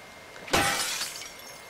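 Glass smashed in The Last of Us Part II video game: a single sharp, close shatter rings out, then fades over about a second into a quiet background.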